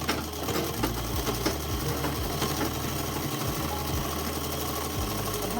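A sewing machine stitching a dress runs steadily and loud, with a fast mechanical whir and thumping needle rhythm and a few brief pauses and changes in speed, close up.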